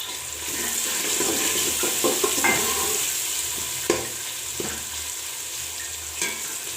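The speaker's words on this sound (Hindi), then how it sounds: "टमाटरों को अच्छी तरह भून लें।" Tomatoes frying in a pan for an aloo baingan dish give a steady, close sizzle with occasional spoon scrapes and taps breaking through.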